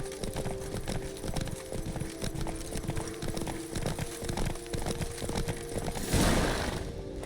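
A horse's hooves clip-clop in a steady, quick gait in The Witcher 3, close and clear over a faint background, ending in a brief burst of rustling noise.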